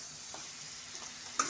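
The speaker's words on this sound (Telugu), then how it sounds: "ఇంకా దీన్ని కూడా వేసేసి కాసేపు అయితే ఫ్రై చేయనిద్దాం" Country chicken fries in oil in a pan for a mildly spiced curry, giving a soft, even hiss with a couple of faint stirs and one sharper clink at the end.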